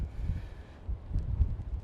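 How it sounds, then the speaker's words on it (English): Strong gusts of wind buffet a wireless clip-on mic at Mow Cop Castle, a deep, rumbling low roar that swells and eases in uneven surges, with no voices. "It's really windy"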